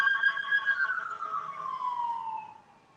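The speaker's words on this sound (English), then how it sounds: "you know, the sirens and stuff." A police siren wails at a distance at a campsite, its tone gliding steadily downward before fading away; no voices are heard.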